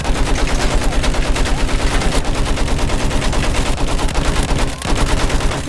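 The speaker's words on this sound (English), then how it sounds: "I'm seeing pom-pom guns!" Pom-pom guns hammering away in the Battlefield 1 map Fao Fortress, loud rapid bursts of heavy automatic fire in a fast, relentless rhythm with brief gaps and distant battle noise mixed in.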